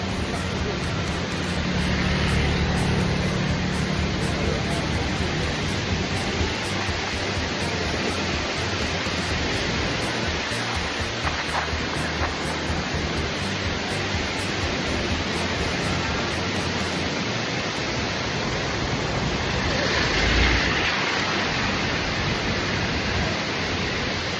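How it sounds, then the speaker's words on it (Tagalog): Waves near Patabat Bridge make a steady, loud wash of surf noise that fills the whole stretch without pause. "Look at the waves."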